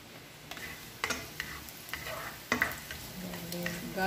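Garlic frying in hot oil in a pan for paella marinara, giving a steady close sizzle broken by sharp clacks and scrapes of stirring, with no one talking.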